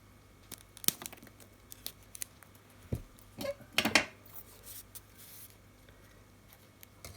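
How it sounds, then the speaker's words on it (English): A pair of scissors snips through material for a DIY pool ball box, making a few short, crisp cuts in brief bursts with quiet pauses between them, close and fairly soft. "I'm just using a pair of scissors"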